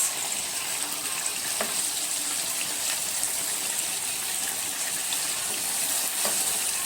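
Meat sizzles in a frying pan while homemade tarb, kofta and burgers are being cooked, giving a steady, close crackling hiss with scattered pops and no voices.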